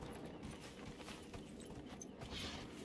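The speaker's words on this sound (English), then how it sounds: "I suppose I could summon my horse here." Horse hooves clip-clopping in the video game Dragon Age: Inquisition, a steady run of soft hoofbeats over a continuous low game ambience, with no talking.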